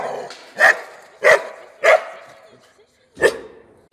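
A Malinois dog barks four times nearby, three quick sharp barks followed by a pause and one more bark.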